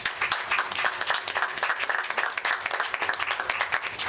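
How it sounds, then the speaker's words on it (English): An audience at a professionals panel discussion applauds, a dense, steady wash of many hands clapping for about four seconds, close and loud with no talking over it. "Please, let's give them another round of applause."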